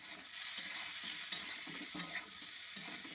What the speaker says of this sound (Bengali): টমেটো ভাজা হোক একটু করে কালার করার জন্য সামান্য একটু করে পরিমাণ মতন হলুদ